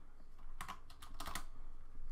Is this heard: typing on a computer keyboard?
yes